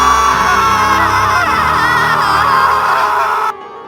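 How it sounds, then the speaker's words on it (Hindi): Two people in a Hindi horror story let out loud, sustained overlapping screams, harsh and close, that cut off abruptly near the end. "दोनों की चीख निकल गई"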